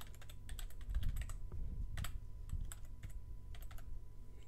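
Typing on a computer keyboard: a close, steady run of irregular clicking keystrokes with no voices over it.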